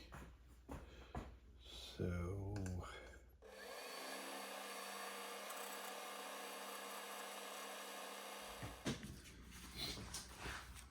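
A metal lathe parts off a piece of metal stock while making a hit-and-miss engine camshaft, a steady close whine and grinding cut held for several seconds, with brief machine and handling noises around it and talk before.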